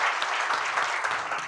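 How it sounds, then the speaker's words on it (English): An audience at a public health talk breaks into a dense, steady round of applause that holds strong and close for the whole stretch, with no voices on top. "Let's give Latham another round of applause"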